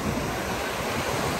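Surf washing onto Playa Coral, a beach in Puerto Escondido, Oaxaca, Mexico, gives a steady, broadband rush of breaking waves that holds for the whole moment, with some wind buffeting the microphone and no voices.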